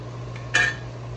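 Chopped onion and garlic dropped into a pan of browned sausage and ground beef give one brief metallic clatter of utensil on pan, close and clear over a steady low kitchen hum.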